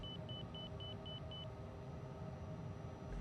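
Cockpit warning alarm in a flight simulator video game: a series of six short, evenly spaced high beeps over a steady low engine drone, fairly faint, then the beeping stops while the drone continues.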